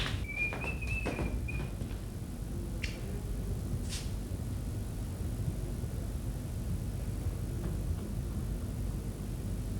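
A man in a Pakistani TV drama whistles a few short tones near the start, then the sound fades into a steady background hum with no speech.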